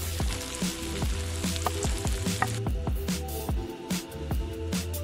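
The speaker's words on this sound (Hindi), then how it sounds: "एक नंबर तड़का लग रहा है।" Green chili and fresh ginger crackle and sizzle steadily in hot oil for a tadka at an outdoor camping cook, with repeated sharp spatter pops and stirring clatter throughout, loud and close with no talk.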